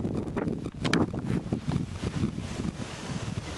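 Strong wind buffeting a microphone outdoors in a backyard pumpkin patch, loud irregular gusts rumbling and roaring continuously with rustling bursts.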